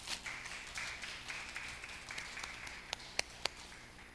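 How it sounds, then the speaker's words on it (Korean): A church congregation claps together for a deacon, a soft, steady patter of applause with a few sharper individual claps standing out near the end. "수고하신 우리 집사님 박수 한번 쳐주세요"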